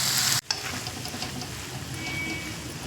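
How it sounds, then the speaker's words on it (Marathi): Soya chunk bhurji being stirred and fried in a pan, a continuous soft sizzle with repeated scraping stirs nearby after a brief cut near the start. "ह्या सुद्धा छान मिक्स करून घ्यायच्या आहे।"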